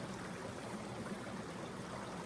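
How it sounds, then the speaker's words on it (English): Babbling brook beside a wild camp on Dartmoor, a steady broadband wash of running water trickling over stones, close and continuous with no voices. "that little babbling brook sound, it's like a bit of white noise when you're trying to go to sleep"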